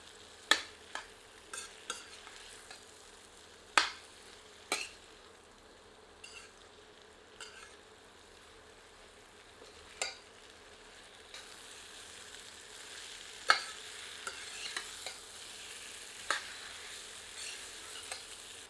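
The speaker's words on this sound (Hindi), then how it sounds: "एक बार करछी चलाकर सबको अच्छी तरह मिला देते हैं।" A ladle stirs chopped eight ball squash in a pan over a faint steady sizzle, with scattered sharp scrapes and knocks at irregular gaps, close but fairly quiet with no talking.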